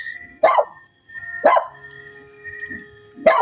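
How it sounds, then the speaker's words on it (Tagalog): A dog barks three times at spaced intervals, loud and close, with quiet background noise in between. "Saka yung aso ng may-ari, tahol ng tahol ba?"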